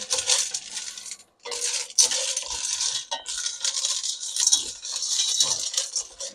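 Shells clatter and scrape continuously against a metal pan as they are stirred while cooking, with a brief pause before the rattling resumes, close and loud.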